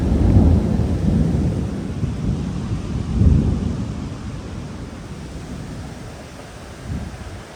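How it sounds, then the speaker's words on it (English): Thunder rolls during a storm on the Appalachian Trail, with deep, loud rumbles that swell at the start, again midway and near the end over a steady wash of wind and rain. "it started thundering right after I left the last video"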